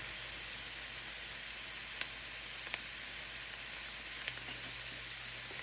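Peppers and onions cooking on high heat in a pan, a steady, even, hissing sizzle that holds constant throughout, close and moderately loud, with a few faint clicks and no talking.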